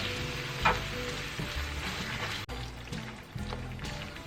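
Carrots and beef stir-frying in sauce in a hot pan for a Chinese beef dish, stirred as they cook: a steady, close sizzle with soft scraping and a brief louder stir.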